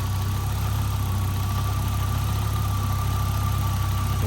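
An Audi UrS4 engine idling smoothly up close, a steady low rumble with a constant faint whine above it, running alone without voices.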